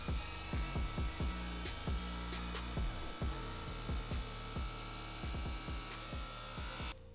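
A buffing wheel polishes a dirt bike part under firm pressure, giving a steady high whine with a fast rhythmic chatter of repeated contact bursts, close and continuous.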